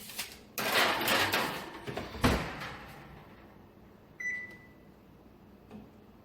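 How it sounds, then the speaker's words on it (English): An oven door opens and closes as potatoes go in, with a couple of close clunks and rattles, then a short electronic beep and quiet room tone. "So now we're gonna pop the potatoes in the oven."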